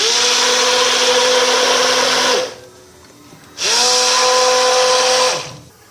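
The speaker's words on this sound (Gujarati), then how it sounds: "હવે આપણે ખીરું ગ્રાઇન્ડરની મદદથી એક રસ કરી દઈશું" Mixer grinder grinding green garlic dosa batter: two loud, close bursts of whining motor noise, each running about two seconds and then winding down, separated by a short quiet pause.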